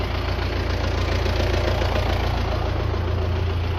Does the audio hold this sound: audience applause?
no